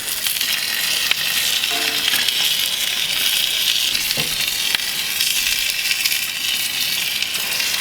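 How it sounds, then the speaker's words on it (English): Steak fat caps searing in a cast iron skillet, a loud, continuous close-up sizzle and crackle with a couple of brief sharp clicks and a faint scrape. "Now we'll sear our fat caps for about 60 seconds"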